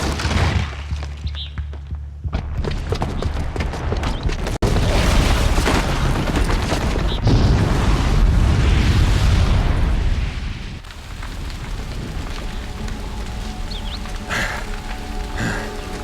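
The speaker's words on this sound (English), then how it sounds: "the booby trap on the bomb downstairs is gonna get set off" A booby-trapped bomb goes off in Horizon Zero Dawn: loud booming blasts, then rumbling debris and crackling aftermath that gradually settle over several seconds, with no talking.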